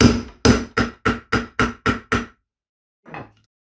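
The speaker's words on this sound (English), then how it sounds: "This sets in the hole, and then you just hammer it into place." Seven sharp hammer blows set a grommet into trailer skirting in a quick, even rhythm, followed after a pause by one softer, duller tap.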